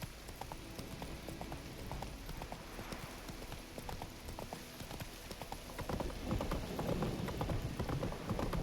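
Roach the horse gallops in The Witcher III: Wild Hunt, a rapid, steady drumming of hooves that grows heavier and louder toward the end, with faint rain-like patter in the background.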